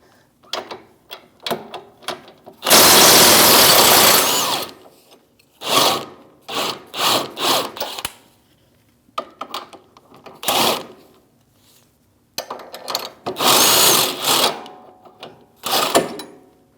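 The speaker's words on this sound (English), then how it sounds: "we're going to remove our lower shock bolt and nut, 21mm wrench and socket." A 21mm wrench and socket work the lower shock bolt and nut on the rear trailing arm of a 2016-2025 Chevrolet Malibu, heard as bursts of ratcheting and metallic rubbing with quiet gaps between them, close and fairly loud.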